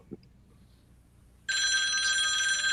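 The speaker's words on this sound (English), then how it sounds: "That phone's ringing." A telephone bell starts ringing abruptly and keeps going loud and steady, with a brief faint sound just before it.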